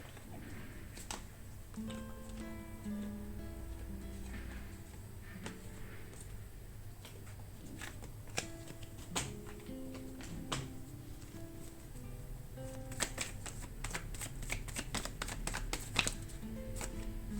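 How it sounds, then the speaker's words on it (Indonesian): Tarot cards slip and drop while being shuffled, making scattered light clicks and taps, with a brisk flurry near the end, over steady background music. "kartunya berjatuhan"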